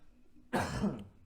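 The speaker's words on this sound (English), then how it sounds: "I'm gonna be coughing a lot." One short, rough cough close to the microphone against near silence.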